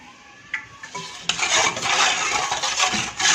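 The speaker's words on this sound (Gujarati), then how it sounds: "હવે આને આપણે હલાવી દઈશું।" Upma ingredients with buttermilk stirred in a pan, a steady scraping and clinking that starts faint, then grows loud and busy with a couple of sharp knocks, no talking.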